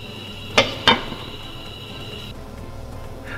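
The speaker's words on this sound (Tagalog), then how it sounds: "Tatakpan ko lang ulit itong ating lutuan." A metal lid is set on a cooking pot of pork bola bola soup with misua and patola, giving two quick, close clanks about a third of a second apart over a steady low hum.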